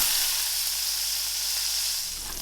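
Oil and butter sizzling in a hot cast iron pan, a dense steady hiss that stays close and even throughout, with no voices.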